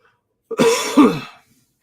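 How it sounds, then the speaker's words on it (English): A single loud, raspy cough right at the mic, two quick hacking pushes run together, then quiet. "As you can hear from my cough."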